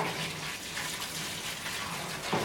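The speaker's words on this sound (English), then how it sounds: "Fill this up with water. Not all the way, just plenty enough to get it over the trap." Tap water runs steadily into a pot being filled to cover steel traps before boiling them, a continuous rushing, splashing gush heard close and alone, with no voices.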